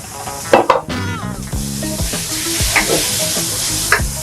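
Chicken curry pastil being stirred and fried in a hot wok, with loud sizzling and scraping utensil strokes and clanks against the metal in an uneven rhythm, close up.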